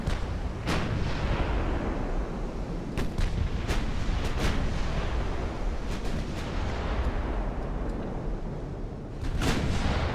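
Naval gunfire in Ultimate Admiral: Dreadnoughts, an 1890-era battleship battle line engagement: a dense, continuous rumble of heavy guns with repeated sharp booming salvos throughout, loud and without any talk.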